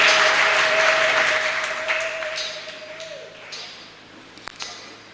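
A church congregation applauding, a dense clapping burst that gradually fades out over several seconds, with a sustained tone beneath and faint voices at the end.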